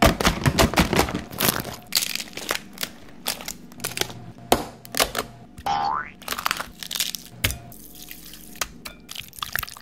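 A lobster roll topped with claw meat is bitten into up close, making a rapid series of sharp, crisp crunches and cracks with brief quiet gaps between them.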